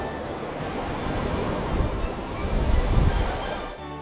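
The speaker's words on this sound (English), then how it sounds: "He rode along cliffs where the ocean roared its mighty song." Ocean surf crashes and roars along seaside cliffs, a loud, continuous wash of broadband noise that swells toward the end before cutting off.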